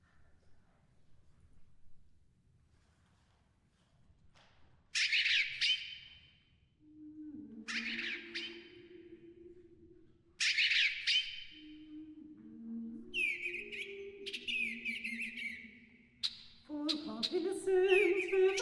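Field-recorded bird songs: bright, repeated chirping bursts arrive in clusters after a quiet start, layered over low sustained tones, moderately loud and growing busier toward the end.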